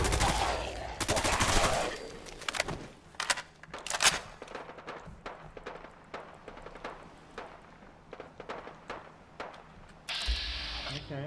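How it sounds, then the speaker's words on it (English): Bursts of gunfire in Fallout 4 crack out in sharp, irregular volleys, loud at first and then thinning into scattered single shots over several seconds. "I was hearing some people shoot."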